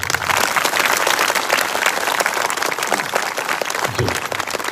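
A church congregation applauds as their pastor arrives, a loud, dense, sustained burst of many hands clapping that fills the space without a break.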